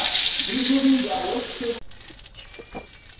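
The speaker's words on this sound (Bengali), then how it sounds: "এখন এই ছোলাগুলো এই মাছ ভাজার যে তেল, এই তেলের মধ্যে টাইলিয়ে নিব।" Pointed gourd peels, boiled first, start frying in leftover hilsa fish oil in a pan, giving a bright sizzle that cuts off abruptly partway, followed by quieter clinks and light stirring.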